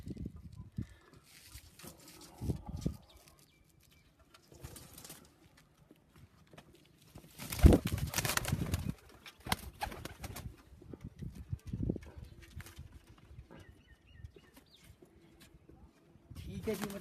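Pigeons coo and flutter on and off on a rooftop in Nankana Sahib, with a loud burst of wingbeats midway and scattered background noise.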